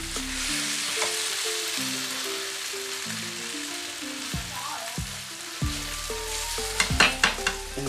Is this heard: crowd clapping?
no